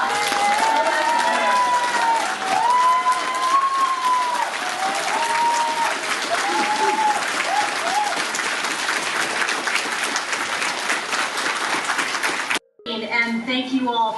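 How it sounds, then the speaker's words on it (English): A crowd at a CGM ceremony claps for recipients and their families in sustained, dense applause that holds steady throughout, with a voice briefly heard over it, before cutting off near the end. "Round of applause."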